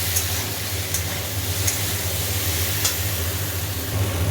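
Steady crackling sizzle of prawn and coriander fritters frying in a pan, continuous and fairly loud with occasional faint clinks, no talking.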